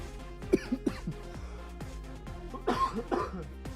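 Several sharp coughs, a couple near the start and a louder cluster toward the end, close to the microphone.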